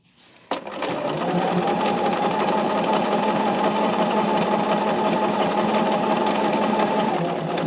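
A sewing machine stitches a fusible-grid summer bag, starting abruptly and then running at a steady fast mechanical whir with a dense, even stitching rhythm, close and continuous.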